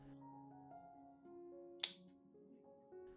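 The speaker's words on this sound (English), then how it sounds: "I will use disinfected scissors to cut off damaged roots" Disinfected scissors cut damaged orchid roots: a single crisp snip, brief and close, over soft background music.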